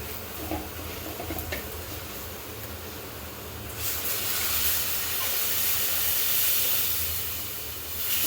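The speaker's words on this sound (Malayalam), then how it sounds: "പച്ചച്ചുവയൊക്കെ മാറിക്കഴിഞ്ഞാൽ അതിലേക്ക് നമുക്ക് ആവശ്യത്തിനുള്ള വെള്ളം ഒഴിച്ചു കൊടുക്കാം" Water poured into hot chilli masala for Aluva-style fish curry hisses and sizzles, a steady low hiss that swells into a louder, brighter sizzle midway and holds, close by.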